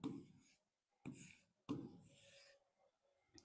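A maths solution is written out with three bursts of scratchy pen or chalk strokes separated by brief pauses, close and fairly quiet, with a small tap at the end and no speech.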